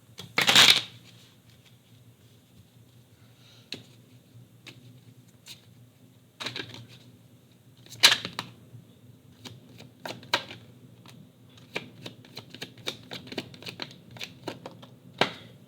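Playing cards are shuffled several times, with a loud riffle burst near the start and more scattered riffles and soft flicks throughout, close up.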